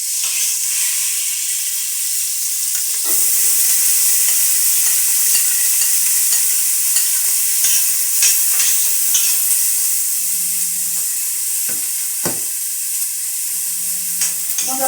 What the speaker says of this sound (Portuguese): Vou colocar primeiro a cebola para dourar.